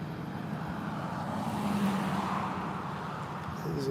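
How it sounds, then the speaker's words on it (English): A car engine rumbling across the street, a steady low drone of moderate loudness that swells slightly toward the end, with no voices. "It's a loud engine sound behind me right now."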